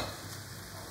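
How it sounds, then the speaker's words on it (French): Mushroom and chicken liver mixture being stirred in a frying pan, giving a faint, steady sizzle with soft scraping throughout a brief moment. "Je mélange le tout. Je rajoute les foies de volaille."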